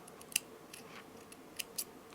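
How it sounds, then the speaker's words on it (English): Scissors snip through jewelry thread during handmade necklace making, a few crisp close cuts spaced out over a quiet background. "So I cut the thread."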